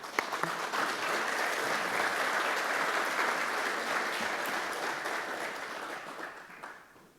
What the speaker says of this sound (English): Let's go big round of applause to our Marines over here.